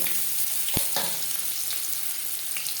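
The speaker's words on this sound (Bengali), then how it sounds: "যেহেতু ডাল আমার সেদ্ধ হয়ে গেছে লাউ আমি একটু ভেজে নেবো" Pieces of bottle gourd frying in hot oil with whole cumin, dry red chilli and a bay leaf, a steady close sizzle with a few sharp clinks of a spatula against the pan.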